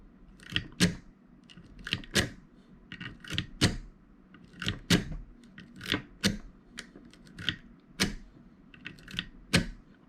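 Rapid metallic clicking and scraping bursts repeat in quick rhythmic clusters, close up, with no talking, as a Kwikset lock is raked with a zipper attack under light tension.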